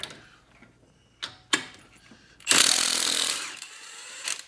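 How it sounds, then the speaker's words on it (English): A Milwaukee 3/4 inch impact wrench with a 24 millimeter socket hammers at a crank balancer bolt, a few short bursts followed by a longer loud rattling run that fades. "I got my impact wrench, 3/4 inch, and this is a 24 millimeter socket."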